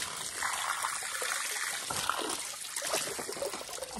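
Cold spring water at a farm trickles steadily at close range, a soft, continuous bubbling dribble with small splashy fluctuations and no talking.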